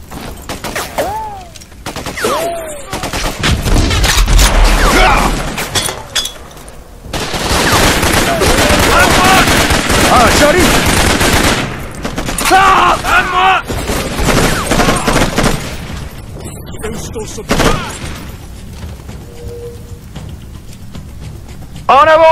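Bursts of automatic gunfire and shooting in the jungle warfare video game Raven Squad, loud and repeated in long sustained volleys with short pauses, while soldiers shout in French between the shots.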